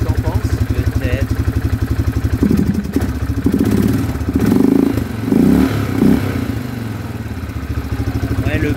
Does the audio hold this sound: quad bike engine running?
yes